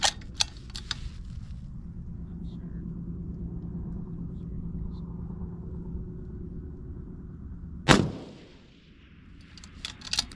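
Rifle fire at a shooting competition: a steady rumbling background with a few sharp cracks, then one loud close shot around the middle that booms and fades, followed by more faint cracks.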